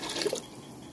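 Water pours briefly into a blended gram-flour kadhi mixture in a pot, a short close splash and drip that fades within a second.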